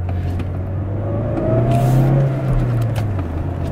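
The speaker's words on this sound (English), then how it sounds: "Driving a stick shift with one hand is not always easy, especially when you're in tight corners" A manual-transmission car drives through tight corners, its engine note rising and falling steadily and loud throughout, with no one speaking.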